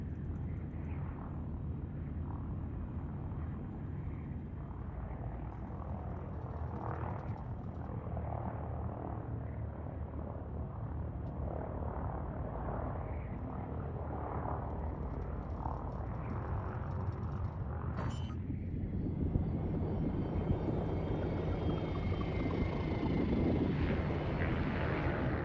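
An aircraft flies past with its landing gear down, a steady broad engine roar holding throughout with no talk, swelling slightly louder toward the end.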